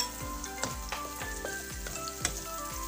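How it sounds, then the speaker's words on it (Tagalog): Chopped onion and whole chili hit a hot pan while making ginataang galunggong, giving a steady, close sizzle broken by regular scraping and stirring clicks, with no talk. "Pwede na rin natin ilagay itong sibuyas saka itong sili."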